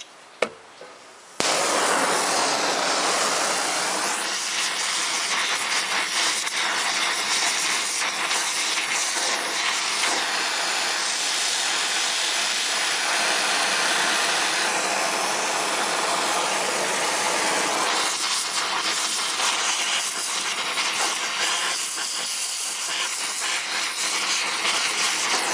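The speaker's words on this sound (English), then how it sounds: "I'm probably going to have to heat that up." A custom-built mini acetylene torch flame heats a threaded connection holding old sealant. It starts with a sudden whoosh, then gives a loud, close, continuous broadband hiss that holds almost unchanged for over twenty seconds, with no talking.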